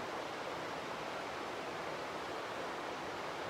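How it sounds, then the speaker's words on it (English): Running water in a stream along the Appalachian Trail rushes steadily and loudly, a continuous broad wash of sound with no pauses. "And the sound of running water."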